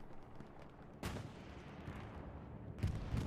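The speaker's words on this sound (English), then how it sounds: "Yeah, I hear that bombing run." Night bombing run by German aircraft in the Hell Let Loose WWII shooter on Utah Beach: distant rumbling explosions with two sharper blasts, one near the start and another toward the end, over a low battlefield drone.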